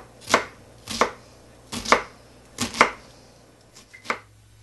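A knife chops through an onion on a board in about seven sharp, separate strikes spaced roughly half a second to a second apart, close and crisp with no talking.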